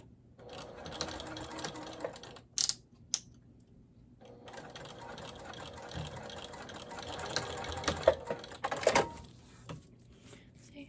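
A sewing machine stitches scrap vinyl onto a makeup bag in close, rapid mechanical bursts, with short stops and restarts between runs and a few sharp clicks.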